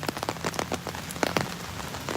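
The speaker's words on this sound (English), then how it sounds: "when it's not raining like this" Steady rain falls on an open city park, Parque El Poblado in Medellín, with a fine wash of patter and scattered sharper droplet taps. It sounds moderately close and fairly quiet, with no talking.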